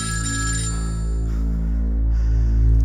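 A telephone rings steadily and loudly up close in a Turkish TV drama scene, its electronic tone sustained without pause under a low background hum.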